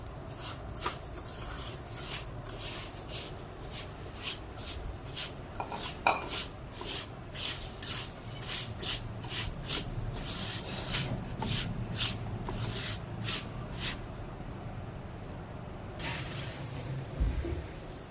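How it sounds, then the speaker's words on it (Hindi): Rice grains being stirred and roasted in half a cup of ghee in a pan, giving a steady scraping and rustling with repeated sharp clinks of a spoon against the pan, close and continuous with no talk. "घी डालना है इसमें, कुकिंग ऑयल नहीं डालना। और अब चावल डाल के इनको भून लेंगे।"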